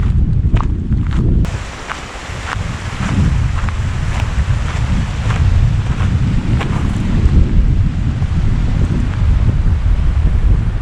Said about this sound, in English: It's a little windy though as well.